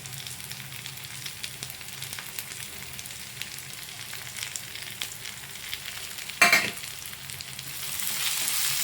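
Continuous crackling sizzle of onions and tomatoes frying in a pan, with a sharp scrape or stir midway and the sizzle growing louder near the end.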